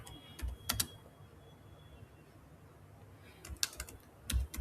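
Computer keyboard typing for an email, short clusters of crisp key clicks at the start and end with a quiet pause between, close and soft.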